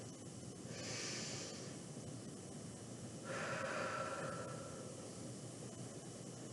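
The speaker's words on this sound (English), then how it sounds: "take another deep breath" Two slow, deep breaths, a long hissing inhale and then a long airy exhale, taken close and quiet during a yoga exercise, with no talking.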